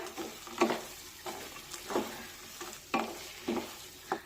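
Semolina sheera with dry fruits and cardamom being stirred in a pan, soft rhythmic scraping strokes about once a second over a faint sizzle.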